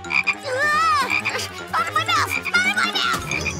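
A frog croaks in a cartoon scene, giving repeated warbling, rising-and-falling calls over a busy, loud background with music-like tones.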